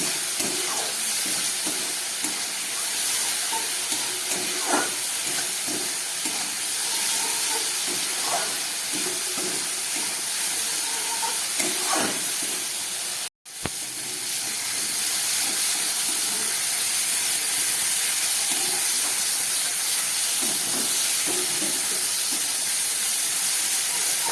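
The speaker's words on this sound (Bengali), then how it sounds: "খুব ভালো করে মশলাটা আমি কষিয়ে নেব।" Spice paste for Bhola fish curry fries hard in a pan, a loud continuous sizzling hiss with scattered pops and scrapes, broken by one brief silent gap.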